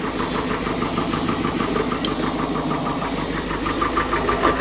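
A 120-horsepower engine on a 1968 Starcraft Islander boat with new parts and electronic ignition runs fully warmed up, a steady, loud, close idle with an even rhythmic chug and no speech over it.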